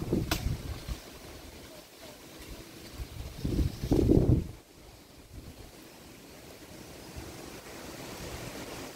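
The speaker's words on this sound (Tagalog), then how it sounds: "Ay, grabe na ang hangin guys." Gusty super typhoon wind in Pangasinan, Philippines buffets the microphone in loud bursts, with a roaring rush rising and falling over a constant windy background.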